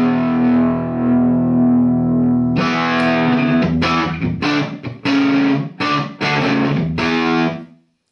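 An electric guitar through a Vox AC15 valve amp, a sustained driven chord ringing out before loud choppy strummed chords with short gaps, slightly gritty and chimey, ending as the sound fades out.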